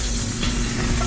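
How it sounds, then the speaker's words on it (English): A pan sizzles loudly and steadily on medium heat while cooking steak, a constant crackling hiss of hot oil with no talking. "Once your pan is sizzling, away from the flame"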